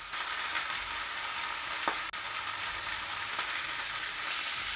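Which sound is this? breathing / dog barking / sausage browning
sausage browning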